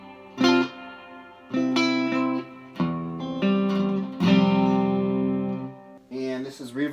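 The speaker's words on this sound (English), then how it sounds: "This is the reverb at 3 o'clock." Overdriven electric guitar phrases through a Vox AC15 amp with reverb at 3 o'clock, played in short bursts, each note trailing into a noticeable reverberant decay between passages; a voice briefly appears at the end.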